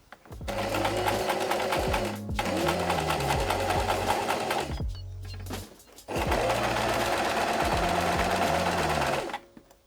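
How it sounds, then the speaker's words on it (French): Sewing machine stitching along the fold of bias binding on a blouse, running steadily and loudly in two long bursts with a brief pause between them. "Et je vais coudre le long de la pliure de mon biais."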